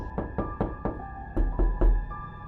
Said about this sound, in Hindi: शीला गांव वालों के दरवाजे को खटखटाती है